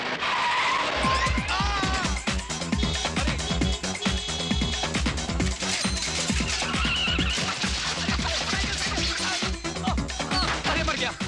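Car in an old-fashioned setting driven fast with tires skidding, heard through a dense, loud mix of engine roar, screeching tires and rhythmic thumping, with dramatic film sound throughout.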